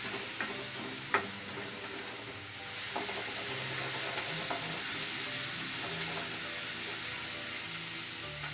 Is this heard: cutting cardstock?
no